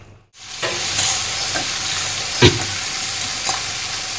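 Steady sizzling of cashews frying in hot ghee fills the clip, with a few sharp scraping clicks of a utensil stirring the pan.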